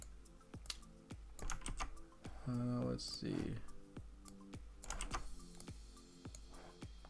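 Keystrokes clatter on a computer keyboard in quick irregular bursts, close and crisp, while a person talks briefly over the tapping.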